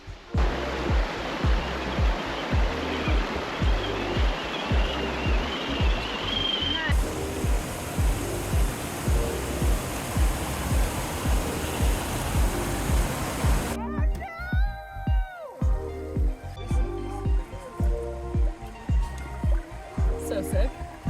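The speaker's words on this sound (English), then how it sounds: "The Icehouse Canyon trails had a couple water crossings" Rushing stream water splashes steadily as Traxxas TRX4 RC crawlers make a water crossing on the Icehouse Canyon trails, a loud continuous wash with rhythmic surges, and the tone shifts partway through.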